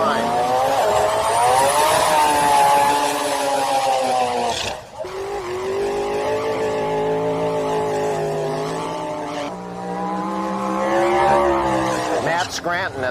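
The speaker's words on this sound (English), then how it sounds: "Matt Scranton from Land O'Lakes, Florida, brings his 2000 Toyota Celica to the line." A 2000 Toyota Celica Pro Import drag race car, turbocharged, runs at a drag strip, its loud engine droning and rising in pitch through repeated gear pulls with a brief dip between, and an announcer talks over it.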